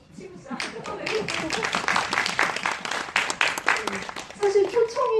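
An audience at a cinema talk event for the Korean independent film Aloners breaks into applause, clapping building quickly into a full round and fading toward the end as a voice returns.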